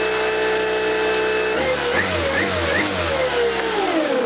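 An RC crawler's motor in a Vanquish 2m chassis with a Castle Ice2 HV80 controller whines at a steady high idle, then drops and surges in pitch, a close mechanical buzz under a voice.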